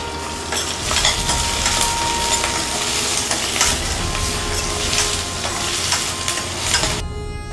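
Onions and curry leaves sautéing in a pan make a loud, steady crackling sizzle with repeated stirring scrapes, close and uninterrupted, with no speech.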